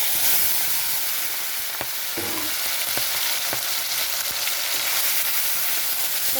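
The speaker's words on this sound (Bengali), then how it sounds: "ঘষে রাখা টমেটোটা দিয়ে দিয়েছি এখন আমি খুব ভালো করে এটা নেড়ে নিচ্ছি" Grated tomato with spices is stirred in a frying pan, giving a loud, continuous sizzle with a few scraping strokes throughout.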